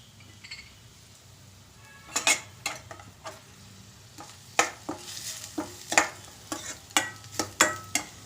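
Curry leaves hit hot oil for vegetable upma, bringing a steady faint sizzle and then a string of sharp scrapes and clinks as a spoon stirs them round the pan, growing louder and more regular toward the end, with no talking.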